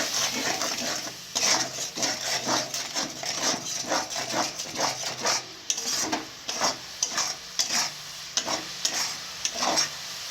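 Meat being stirred in a hot pan with turmeric and chilli, a steady scraping stir over a continuous close, bright sizzle of frying.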